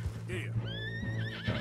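A horse in the Red Dead Redemption 2 video game whinnies in a rising, wavering neigh, close and clear over a low background hum, with brief hoof sounds alongside.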